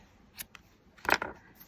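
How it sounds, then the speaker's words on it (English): Scissors snip bakery twine beside a candle: a quick faint snip, then a louder double cut a moment later, crisp and close in a quiet room. "Grab some scissors here"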